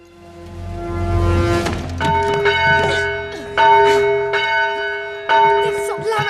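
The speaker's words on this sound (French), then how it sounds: "Fais sonner cette cloche et tu seras mienne." A church bell rings on Christmas night, several resonant strikes spaced about every one to two seconds, each leaving a long humming decay that overlaps the next, loud and close.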